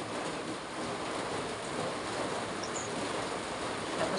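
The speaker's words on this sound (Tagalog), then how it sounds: "Tapos ganito umuulan-ulan." Steady rain falls during a rainy-weather meal setting, a continuous broadband hiss with no breaks, moderately loud and even throughout, with no voices over it.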